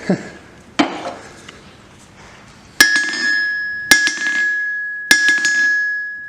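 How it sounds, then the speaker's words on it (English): A hammer strikes a forging anvil on its stand: a few lighter taps, then three hard blows that each ring out in a loud, bright, sustained metallic tone. "this Anvil is kind of loud, I guess, when I hit it"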